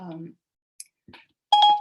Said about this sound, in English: this talk has activated my Siri on my phone